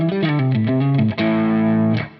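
Electric guitar on a single-coil pickup with a Friedman-style distorted tone plays a quick run of picked notes, then a sustained ringing chord that decays, loud and up close.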